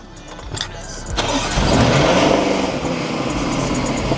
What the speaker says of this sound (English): Start up that GLE